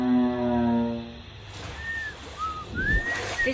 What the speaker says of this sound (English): This is blue whale.